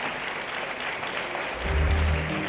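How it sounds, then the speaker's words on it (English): Conference audience at a summit stage applauding panelists, a dense wash of clapping that swells louder toward the end, with faint voices mixed in. "give a round of applause for our great panelists"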